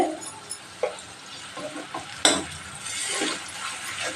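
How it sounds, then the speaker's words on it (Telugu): Ginger tipped into a hot frying pan for a dry fish and fenugreek-leaf curry, with a soft sizzle and a few light clinks and stirring scrapes of a utensil against the pan, close by and with no talking. "అల్లం వేస్తున్నానండి"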